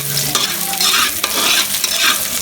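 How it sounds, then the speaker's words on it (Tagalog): Chopped onion sautéing in hot oil for Filipino pancit canton guisado, a dense sizzle broken by repeated scraping stirs of the spatula, close and fairly loud. "magpapainit muna tayo ng mantika at magsisimula na tayong maggisa. Inuna ko munang ginisa ang onion"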